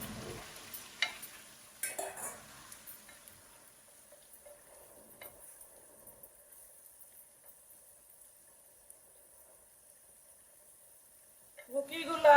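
Taro pieces fry and are stirred in a spice masala, with a low, faint sizzle and occasional spoon scrapes that grow louder and busier near the end.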